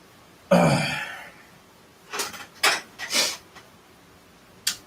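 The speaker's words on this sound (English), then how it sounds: "stop sniffling" A person sniffling indoors: one long wet, loud sniff, then after a pause a few shorter sniffs in quick succession and a faint final one, with no talking.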